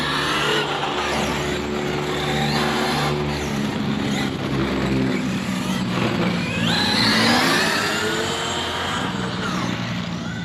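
A car engine revs and climbs in pitch as the vehicle pulls away, loud and close, rising through its gears with a steady mid-range drone.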